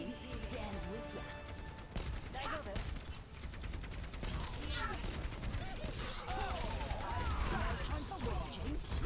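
Rapid bursts of gunfire in the video game Overwatch, loud and nearly continuous, mixed with game effects and voices talking over the action.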